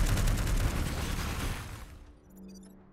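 Mech bombardment in the strategy game Into the Breach: a loud rapid barrage of gunfire and explosive impacts for about two seconds, then cutting off to a quiet hum and faint electronic tones.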